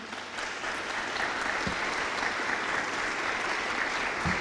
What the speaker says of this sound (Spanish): Pues un aplauso bien grande para Astrid.